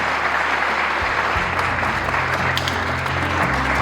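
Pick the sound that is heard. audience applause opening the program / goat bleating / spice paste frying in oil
audience applause opening the program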